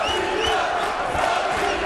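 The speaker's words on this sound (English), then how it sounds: "Crowd, not the biggest crowd in the world, but loud. They're into it, enthusiastic, spirited." A loud, spirited boxing crowd cheers and shouts continuously at a fight, a dense roar with whoops rising out of it, filling the space with no clear voice on top.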